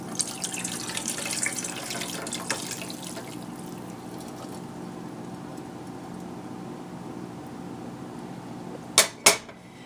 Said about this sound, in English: the next step is we're going to pour it through a mesh strainer into a bowl